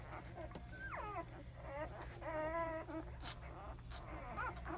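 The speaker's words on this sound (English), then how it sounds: "Here's Bailey and Hunter's puppies." Week-old newborn puppies from a Labrador-type litter whimper and squeak in high, wavering cries, several close together and overlapping, close and moderately loud over a faint background hum.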